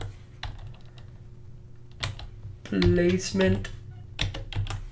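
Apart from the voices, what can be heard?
typing on a computer keyboard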